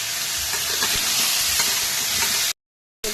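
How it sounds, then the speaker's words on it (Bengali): Pieces of raw plantain and potato fry in hot oil in a pan, giving a loud, dense, continuous sizzle with some stirring scrapes, which cuts off abruptly near the end after a short silence. "এইবার আমি কাঁচকলা আর আলুটা দিয়ে ভালো করে ভেজে নেব"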